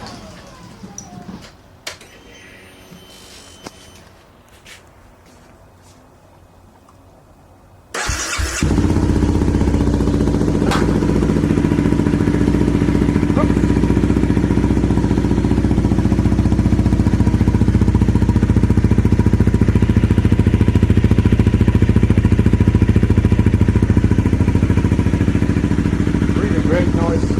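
A 2011 Honda CBR250RA fitted with a Delkevic exhaust sits in a garage. After several seconds of quiet clicks and handling, it fires up abruptly into a loud, steady, throaty idle that runs close and alone to the end.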